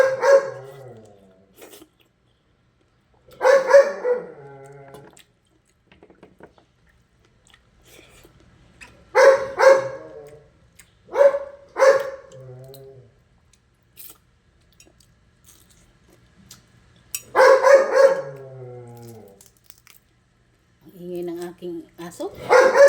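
A dog barks in several short bursts spread through the clip, with quiet gaps between and some talking mixed in.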